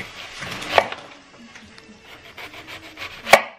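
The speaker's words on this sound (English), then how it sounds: "I have my onion cut in circles and then I cut it in half" A knife slices a purple onion into thin circles on a cutting board, with two sharp, distinct chops standing out among softer scraping and rubbing sounds.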